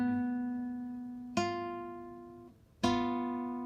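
Two notes, first-finger C and open E, picked together on a guitar, struck three times with sustained ringing tones that slowly decay between plucks, close and clear with no talking.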